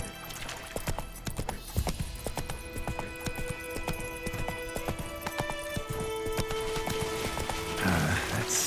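Hoofbeats of Geralt's horse Roach galloping in The Witcher 3, a steady rapid clip-clop over game ambience with a brief whinny-like tone, continuous and fairly close throughout.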